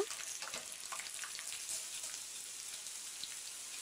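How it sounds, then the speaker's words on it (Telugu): Peeled garlic cloves and chana dal frying in oil in a pan, a faint, even crackle and hiss with scattered light pops, steady throughout and without voices. "వలుచుకున్న వెల్లుల్లి రెమ్మలను వేసుకుని శనగపప్పును కూడా వేసుకుని వేపుకోవాలి"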